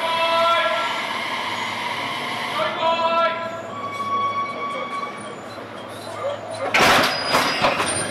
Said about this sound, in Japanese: ただいまから後続列車と連結作業を行います。